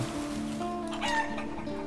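Chickens in the medieval village-building game Life is Feudal: Forest Village cluck steadily in a dense flock, with a brief louder call near the middle and no talking.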